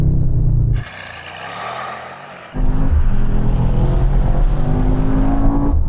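A Mercedes-AMG GT 63 S launches hard from a standstill in ESP Sport mode, a deep loud idle rumble giving way to a surging engine roar that climbs, dips at a shift, then pulls strongly again.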